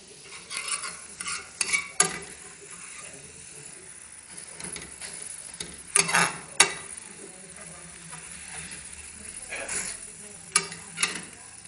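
Egg food stirred in a pan with a utensil: soft scraping and sharp clinking knocks come in irregular clusters over a quiet background.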